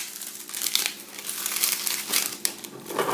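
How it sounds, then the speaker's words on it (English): Cellophane plastic wrap is pulled off an LED lamp box, giving close, busy crinkling and crackling with a few sharp snaps, quiet and uninterrupted by speech. "Alright, so we'll take this plastic off."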